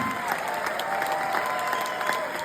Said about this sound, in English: let's give it up for my man Goodbye Johnny